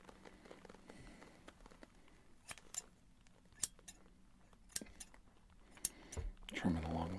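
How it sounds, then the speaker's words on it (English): Scissors snip and trim along the top of a client's hair during a barbershop haircut, close and crisp in sparse clicks. A voice is heard briefly near the end. "Trimming along the top."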